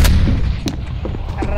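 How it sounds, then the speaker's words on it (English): A grenade goes off in Counter-Strike: Global Offensive, a loud, heavy blast with a booming low rumble, followed by a couple of sharper distant cracks. "Grenade out!"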